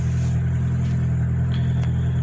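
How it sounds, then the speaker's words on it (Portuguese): A Chevrolet Celta engine runs steadily inside the car after its TBI throttle body was cleaned, a loud low rumble holding even throughout with no clear rise in revs and no talk. "pede pra alguém dando uma acelerada dentro do carro"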